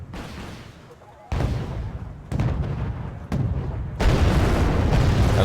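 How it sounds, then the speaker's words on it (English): Enemy naval cannons fire in the Wargame: Red Dragon strategy game, four heavy booms about a second apart, each adding to a growing, loud rumble of battle. "enemy cannons are firing"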